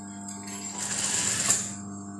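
A sewing machine stitches an outline along a dress, a steady close mechanical whir with a faint high whine that swells in the middle of the run, alone.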